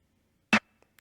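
A single sharp accent snare hit from a beat rings out briefly and alone, followed by a couple of faint ticks.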